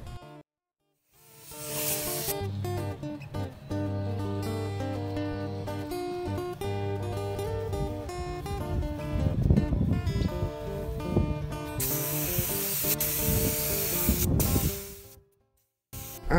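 Spray gun coating car rims and suspension coils in seafoam green for a 1972 Super Beetle, a steady close hiss running in long continuous bursts for most of the stretch, with short pauses at the start and end.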